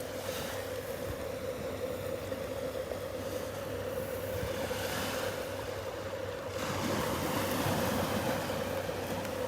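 Surf washes steadily onto a Gulf beach at Delnor-Wiggins on a rainy morning, a continuous broad roar of breaking waves with a low steady hum underneath and a slight surge in intensity partway through, no voices.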